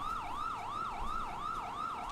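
A video game police car siren wails, sweeping up and down in a steady, rapid cycle, continuous and fairly loud with no voices.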